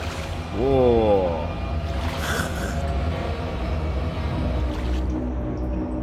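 A person wading through water inside a pyramid tomb passage, with faint sloshing and splashing beneath a man's speech and a brief exclamation, the water noise steady and close.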